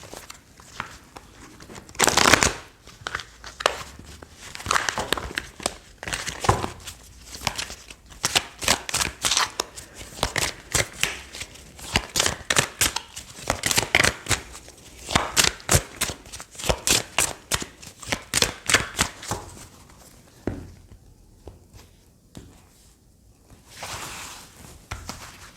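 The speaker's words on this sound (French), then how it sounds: "Alors je vais prendre d'autres cartes du tarot" Tarot cards being shuffled by hand, a long run of rapid, close riffling bursts with brief pauses between, alone without talk.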